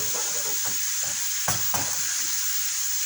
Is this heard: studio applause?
no